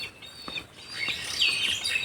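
An eagle calls close by in a short burst of thin, high-pitched chirping cries, a few sharp squeals rising and falling over quiet background noise.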